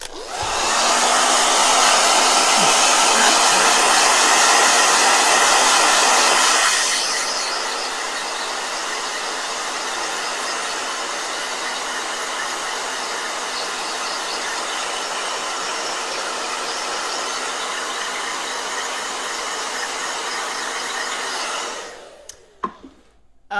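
A blow dryer runs continuously with a loud, steady airy whir that drops to a lower setting partway through, then clicks off near the end.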